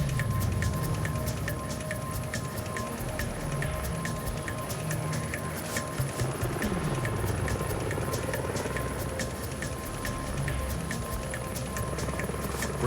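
A rescue helicopter hovers near a rock over freezing water, its rotor pounding in a loud continuous roar with rhythmic blade chop and a high turbine whine, and no voices.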